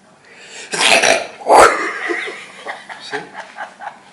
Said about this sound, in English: If I want to sneeze, I can sneeze just fine.